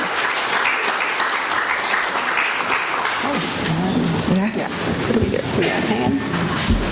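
Applause from the audience at a young women's panel event, a steady broadband patter that carries through the whole stretch, with voices and cheering mixed in over it during the second half.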